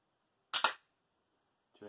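A Transformers Cybertron Starscream Supreme Class toy's gun mechanism snaps with a sharp double click, close and isolated, followed by silence and the start of a voice.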